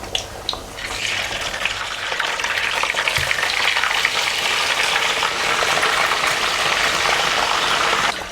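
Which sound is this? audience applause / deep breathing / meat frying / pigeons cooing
meat frying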